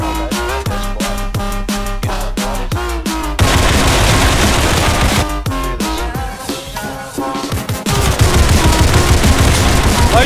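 Rapid gunfire in the video game Criminality, loud and continuous bursts of automatic shots layered over constant game music, with no pause across the whole stretch.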